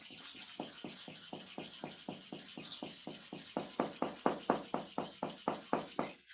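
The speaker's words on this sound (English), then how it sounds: "Then you sharpen for the second side." A hair clipper blade is sharpened by rubbing it to and fro in an even rhythm, about twenty close, rasping strokes that grow slightly louder toward the end.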